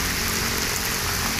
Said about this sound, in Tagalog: binubuhos na, parang binubuhos ng ulan guys